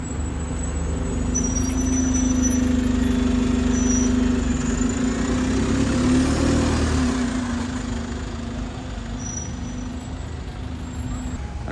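A London bus, an Alexander Dennis Enviro 200 MMC run by Sullivan Buses, pulls away from a bus station with a steady, loud engine drone that swells and then eases as it moves off, with no talk.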